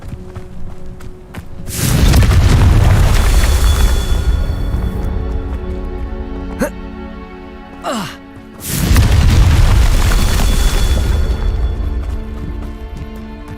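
Explosions from the Confringo spell in the Hogwarts Legacy video game: two loud, booming blasts several seconds apart, each with a long rumbling decay, separated by quieter game ambience and small whooshing effects.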